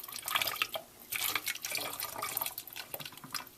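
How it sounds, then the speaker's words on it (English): Water is poured out of an anatomical model after the pump is switched off, making irregular splashing and trickling bursts into a container, fairly close and quiet, with short pauses between pours. "lift up the distal end of the model out with the water still in it, and then just pour"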